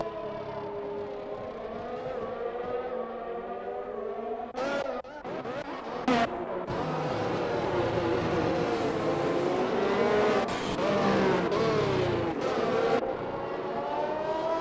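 Racing video game cars on a Saudi Arabia track with a bunched-up field of about eighteen, engines whining in a continuous loud drone with rising and falling pitch sweeps as cars rev and pass, no talk.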